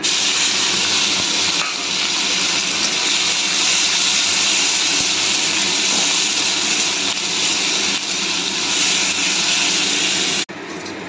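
A loud, steady sizzle of onions, cumin and spices frying in a hot pan hisses continuously, then drops off abruptly near the end.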